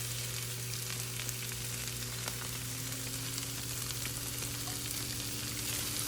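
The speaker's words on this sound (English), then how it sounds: "now I'm gonna go ahead and add in my ground beef" Ground beef sizzles in a pan with softened onions, a steady close crackle and hiss running without a break, with a faint low hum beneath.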